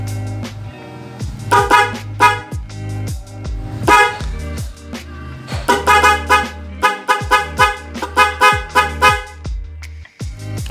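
Motorcycle horns, a standard small horn and a large snail horn, honking loudly and close in repeated short beeps of varying length and pitch, alternating in an irregular rhythm.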